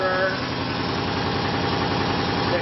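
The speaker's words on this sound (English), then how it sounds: "going to our ReGen-X motor" ReGen-X electric motor running on about 1 amp at 85 volts near 645 RPM, a steady close hum with a fast regular pulsing throb, with faint voice traces.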